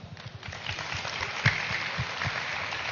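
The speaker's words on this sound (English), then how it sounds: "warm round of applause" Warm round of applause from an audience at a live youth festival, a steady dense patter of many hands clapping at moderate volume for the whole stretch, with no talk over it.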